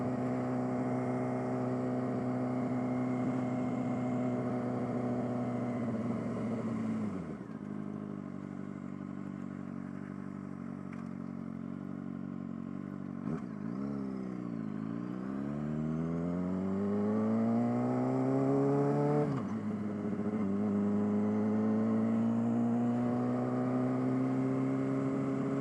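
Suzuki GSX-R 600 sport bike riding along a road, its engine droning steadily near and loud, dipping as the rider eases off and then revving up again through the gears. No one speaks.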